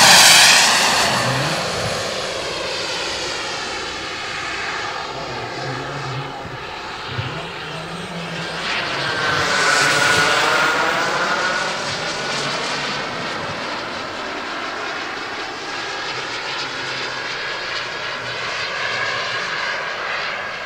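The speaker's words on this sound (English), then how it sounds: "On a slow flyby over the runway." A jet aircraft makes a slow flyby over the runway at an air show, its engine roar swelling to a loud peak midway and then trailing off steadily, heard alone without talk.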